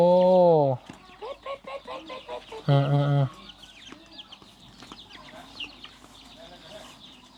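Ducks and ducklings call in loud, harmonic bursts near the start and again around the third second at a rural Thai farmyard, then fainter scattered peeps continue while a person talks.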